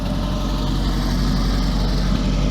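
A Volkswagen Beetle engine runs steadily at a classic car gathering, a continuous loud low rumble with no breaks or revving.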